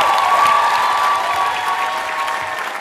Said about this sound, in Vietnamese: Chúng ta cho một tràng pháo tay nữa cho Ngọc Sơn và Mỹ Tiên quý vị